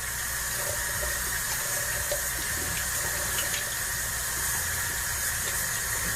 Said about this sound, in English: Let's go ahead and rinse this fillet off.